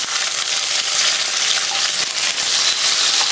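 Shallots and curry leaves sauté in sesame oil for a kuzhambu, giving a steady, close hiss and crackle of frying that continues without a break and with no speech over it.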